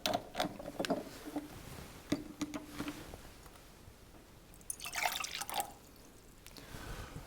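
Water emptied from the P1 bottle of a pressure myograph system, heard as faint irregular drips and trickles with small mechanical clicks and a short splashy burst partway through, quiet and close.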